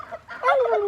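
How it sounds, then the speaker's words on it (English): Heritage-breed turkeys gobble in a muddy pasture field, one brief, close, warbling call. "I got turkeys turkeying in the background."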